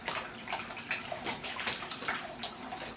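Gold pay dirt shaken in a pan of water, with irregular sloshing and splashing bursts close by and fairly quiet.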